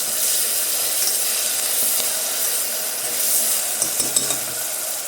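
Chopped fenugreek leaves soften in hot oil for a methi mutton curry, a steady close hiss of sautéing with a few sharp scraping and clinking stirs toward the end.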